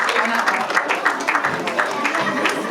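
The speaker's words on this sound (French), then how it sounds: "Vous applaudissez pour eux aussi, ils méritent quand même." A cinema audience at a film premiere claps in sustained applause throughout, dense and fairly close.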